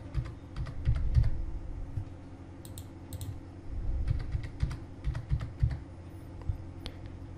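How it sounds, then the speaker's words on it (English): Bursts of keystrokes on a Windows computer keyboard as a password is entered, crisp clicks in short clusters with pauses between them over a low room hum. "you need to retype the password which you have typed before"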